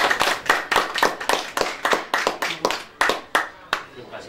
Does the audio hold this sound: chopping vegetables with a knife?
no